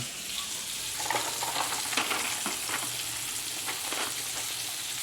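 Butter sizzles loudly around a steak in a hot pan, a dense continuous hiss broken by crackling pops, with no voices.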